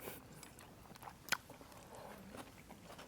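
Someone chews squid pasta with crunchy vegetables, a few soft bites and one sharp crunch close to the mouth, fairly quiet with no talking.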